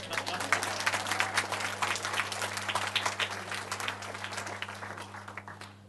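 Audience applause at a national youth disability conference, a steady wash of many hands clapping that fades gradually, heard alone without talk.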